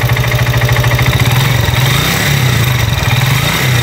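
A Honda TMX155 motorcycle engine, freshly overhauled, idles steadily and loudly close by, with an even low throb throughout and no voices.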